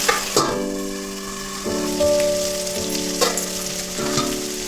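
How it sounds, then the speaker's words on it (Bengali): Steady sizzling of rohu fish frying in a covered pan, with a few brief metallic clatters and a constant hum underneath. "এবার ঢেকে দিচ্ছি ভাজা হওয়ার জন্য।"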